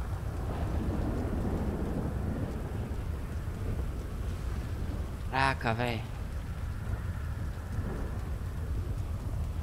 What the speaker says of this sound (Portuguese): Essa chuva não para. A chuva não para.